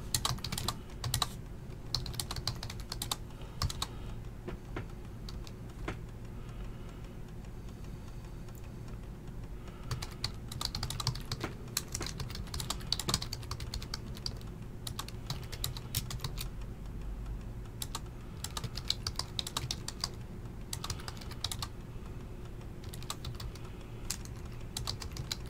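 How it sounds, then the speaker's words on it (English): Fingers type steadily on a computer keyboard. The quick, dense clicking runs almost without a break for the whole stretch and sits close and moderately loud over a faint room hum. "let me actually type it in real quick"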